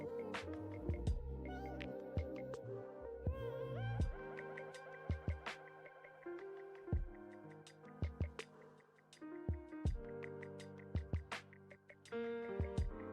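Quiet cat meows come in short bursts over a busy, sustained background of clicks and tones in an indoor room.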